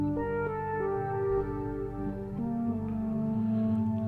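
A Korg opsix synthesizer patch playing sustained, horn-like chords with stepping bass notes beneath, moderately loud and steady in a short passage with no voices.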